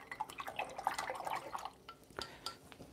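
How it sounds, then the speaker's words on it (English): A paintbrush is rinsed in water while painting a violet water scene, giving a close run of small drips and sloshing splashes in the first half, then a few sparse drips and taps. "I'll give it a quick rinse"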